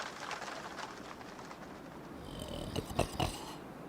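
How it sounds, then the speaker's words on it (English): A cartoon character snores while camping in a tent during rain, giving a soft, low, rhythmic purring rumble with a few louder pulses near the end and no talking. "stop snoring."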